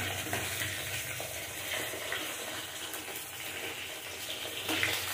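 Five-spice seeds (panch phoron) frying in oil in a pan for a fish curry, a continuous close crackling sizzle under light stirring, no voices.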